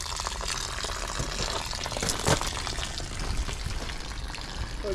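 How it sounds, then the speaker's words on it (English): Water draining from an RV low point drain connected to the water tank during winterizing, a steady splashing gush pouring continuously at close range. "Let that drain."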